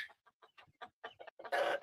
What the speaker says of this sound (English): if you can see these birds in here